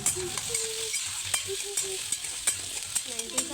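Chopped onion and tomato fry in a pan with a steady close sizzle, broken by repeated sharp scrapes and clinks of a spoon stirring, with no talk.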